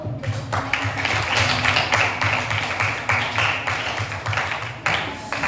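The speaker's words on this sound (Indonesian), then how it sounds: "Tepuk tangan dulu." Audience clapping hands at the close of a group presentation, a steady, dense patter of applause lasting throughout, fairly close and moderately loud, with faint voices mixed in.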